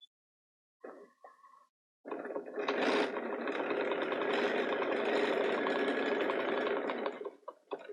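A Bernina sewing machine stitches around the edges of fabric with contrasting thread, running as a steady, close mechanical whir for several seconds after a brief softer start.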